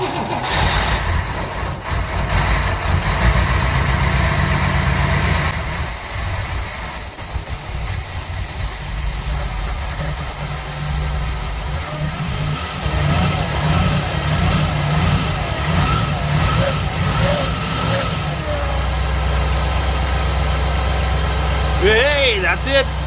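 A 1961 Cadillac De Ville with a 390 engine idles roughly and misfires with its timing slightly out, a steady low rumble with uneven beats running throughout, close by, with a voice talking over it at moments.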